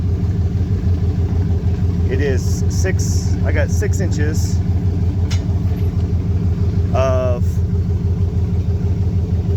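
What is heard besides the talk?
engine running in the background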